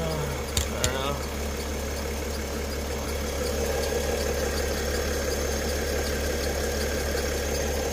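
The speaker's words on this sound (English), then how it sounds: "Air pump is pumping because I got out on that suspension setting on my scan tool" Air suspension pump on a Mercedes Airmatic system running with a steady, droning hum and vibration, close and continuous, with a brief voice and a couple of clicks near the start.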